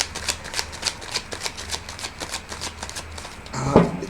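Tarot cards are shuffled in a steady run of crisp, close card slaps and flutters at a brisk regular rhythm. Near the end a louder brief knock or handling sound rises above it. No one speaks.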